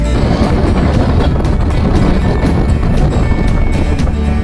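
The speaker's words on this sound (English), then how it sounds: "It's quite windy, eh? It's very windy, and now the ferry is rocking a bit." Strong wind on a ferry deck buffets the microphone in a constant loud roar, with a low engine-like rumble beneath and no voices.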